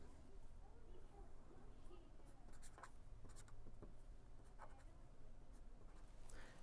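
Pencil writing on manuscript paper in a quiet room, a soft continuous scratching with brief strokes and taps, faint and close, with a voice speaking in places.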